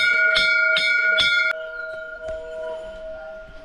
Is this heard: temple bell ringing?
yes